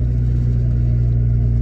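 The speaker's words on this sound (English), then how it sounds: "the turbo just gives the exhaust a note too" Turbocharged Toyota Starlet exhaust note, a loud, close, steady droning rumble held at constant revs for under two seconds, with no speech.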